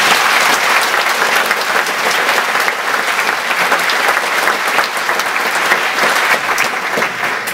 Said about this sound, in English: I'd just like to give her a round of applause